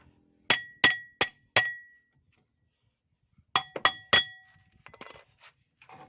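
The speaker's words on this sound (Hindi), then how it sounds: "इस तरह उल्टा लगा के आपने हैमर की मदद से या कोई पत्थर की मदद से हल्का हल्का आपने लगा के दोनों साइडों से आप इसको बाहर निकाल दें।" A hammer taps metal on the rear axle brake drum of a Suzuki Bolan, four sharp ringing clinks in steady rhythm, a pause, then another burst of four strikes followed by lighter knocks, close and clear.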